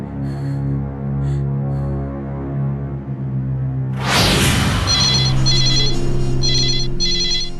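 A telephone rings in repeated electronic bursts over a low humming background, following a sudden loud bang partway through.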